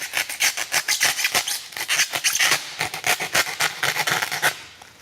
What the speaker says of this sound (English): Now I'm just going to use a sawing motion to cut this corner off.